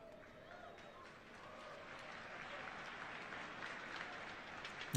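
Audience applause at BlizzCon 2018, a broad wash of clapping from a large crowd that builds steadily and stays moderately loud, with a sharp burst right at the end.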